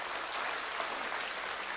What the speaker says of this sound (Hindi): अच्छी बात पर अच्छी ताली बजनी